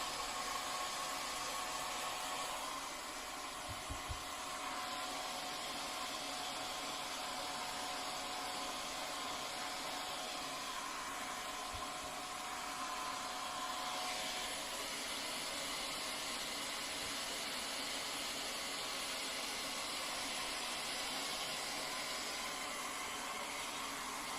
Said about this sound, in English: to be a bit quicker, I'm just going to do it with a hairdryer.